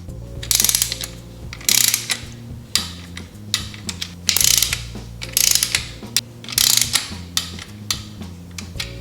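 A torque wrench set to 7.3 foot-pounds ratchets in repeated bursts of sharp metallic clicking, close by with short pauses between strokes, and no voices.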